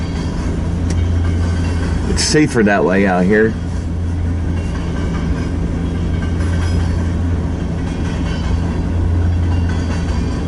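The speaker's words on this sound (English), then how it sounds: "This is a about 5 mile long train." A very long freight train rumbles past at close range in Fremont, Nebraska, a dense, continuous low roar of rolling cars, while someone speaks briefly over it.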